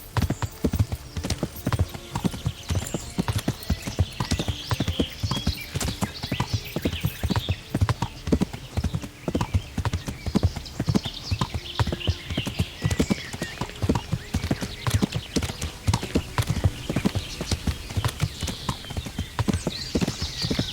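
Horse hooves clop steadily along in Kingdom Come: Deliverance as a rider travels, a brisk, even rhythm of close, crisp hoofbeats continuing throughout, with faint snorts and no talking.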